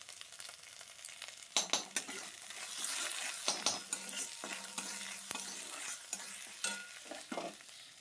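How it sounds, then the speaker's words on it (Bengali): Spices sizzle in hot oil in a home kitchen pan as a spoon scrapes and stirs them, giving a steady frying hiss broken by repeated close clinks and scrapes. "এবার তেল গরম করেছি, এবার মশলাগুলো ভালো করে কষিয়ে নেব।"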